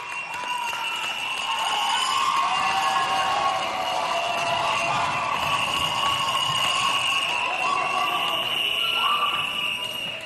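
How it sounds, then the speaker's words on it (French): An audience at a Chad independence anniversary celebration applauds and cheers a visiting high school group. The sustained crowd noise is loud and steady throughout, with ringing tonal calls above the clapping. "Est-ce qu'on peut applaudir bien fort?"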